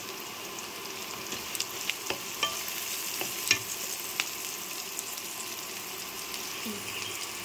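Taro leaves (kochu shak) frying in a pan, a steady close sizzle with scattered soft clicks and scrapes of stirring, no talk.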